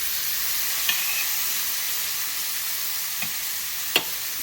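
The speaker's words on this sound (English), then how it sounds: "That sizzle is what you want to hear." Omaha steaks sizzle loudly in a hot pan, a dense continuous hiss with a few sharp pops and crackles standing out, close and without voices.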